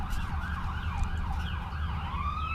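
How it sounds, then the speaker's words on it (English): Emergency sirens wailing in the distance, a faint rising and falling tone that repeats steadily over a low background rumble, with no talking. "You hear sirens in the back."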